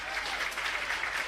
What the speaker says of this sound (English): The great hall thundered with applause.